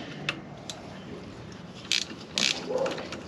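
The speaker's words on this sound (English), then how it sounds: "A ratchet spanner even works wonders." Ratchet spanner with a 3/8 drive 10 mm socket working on a 70 Series Landcruiser swivel hub: a few short bursts of fast ratcheting clicks, faint and close, with small metallic ticks between.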